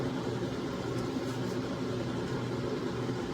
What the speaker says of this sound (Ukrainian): Тож починаємо смажити рибку.